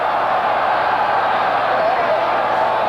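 A large crowd at a 1978 New England Patriots versus Oakland Raiders football game, a dense, steady roar of massed voices chanting in the stadium, loud and continuous, heard from a distance.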